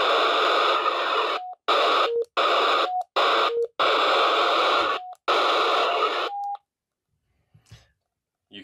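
Loud hissing static from a Belfone BF-OG200 FRS handheld radio in monitor mode, broken into bursts by short gaps with brief beep tones, then falling quiet with a few faint clicks at the end.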